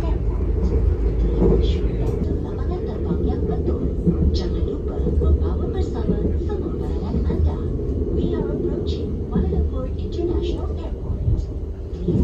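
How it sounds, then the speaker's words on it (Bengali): A KLIA Express train runs from airport Terminal 2 toward Terminal 1 near Kuala Lumpur, with a steady low rumble and rolling wheel noise heard from inside, while a voice talks over it throughout. "আমাদের ট্রেনটা এখন কুয়ালালামপুর টার্মিনাল 2 ছেড়ে টার্মিনাল 1-এর দিকে এগোচ্ছে।"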